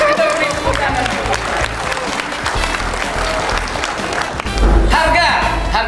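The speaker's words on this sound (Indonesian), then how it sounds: "Kita beri tepuk tangan." Audience applause for a speaker at a talk on human resources and integrity, a dense steady wash of clapping that runs the full length and swells louder near the end, with a voice faintly mixed in.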